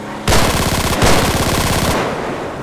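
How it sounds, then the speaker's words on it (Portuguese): A heavy machine gun mounted on the front of an armored military vehicle fires two loud, rapid bursts back to back in an action video game, the rattling shots close and continuous before stopping abruptly. "Esse veículo tem uma metralhadora na frente, irmão."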